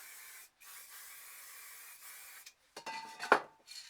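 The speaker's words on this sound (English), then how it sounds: "And then we'll get the light blue and just spray a bit over the top." Spray paint can hissing out light blue over a stencil sheet, in short bursts with brief pauses, the later spurts sharper and more broken, close by.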